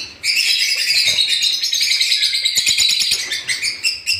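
Lutino ringneck parakeets and lovebirds in a home breeding setup chirp and tweet in a dense, loud, continuous chorus close by, with sharp overlapping calls throughout.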